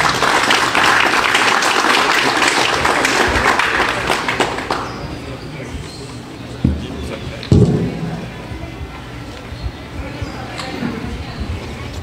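Applause from a university lecture audience welcoming a shrimp-farm engineer, a dense, loud patter of many hands for about four seconds that then fades into scattered claps and room noise.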